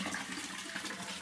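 Desi magur catfish fry are poured from a hatching tank into another tank, giving a continuous soft gush and splash of water, close and fairly even throughout, with no voices.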